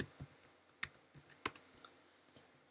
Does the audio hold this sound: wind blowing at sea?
no